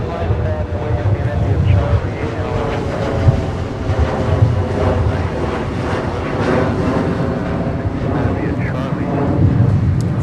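A jet aircraft at snowy, windy Minneapolis–St. Paul airport during deicing operations rumbles continuously in loud, buffeting wind, with voices faintly mixed underneath throughout.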